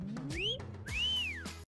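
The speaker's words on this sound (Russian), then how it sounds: "Вон сидит, сейчас он должен свистнуть, смотрите." Someone whistles two rising and falling swooping notes, clear and fairly loud, over a low background hum before a sudden cutoff.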